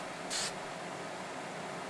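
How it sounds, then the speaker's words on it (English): Super Hold hairspray is sprayed onto the tree body of a landscape painting in one short, bright hiss against a quiet room. "take the Super Hold hairspray and spray just the body of the tree"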